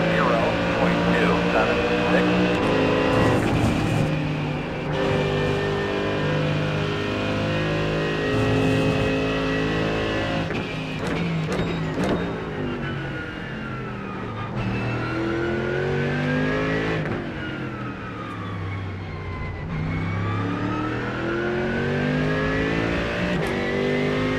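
A Ford Mustang GT3 race car in iRacing at Silverstone accelerates hard, its engine roaring loudly and steadily with rising and falling pitch through gear changes, while a commentator talks over it.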